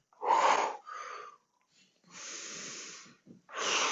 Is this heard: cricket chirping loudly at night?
no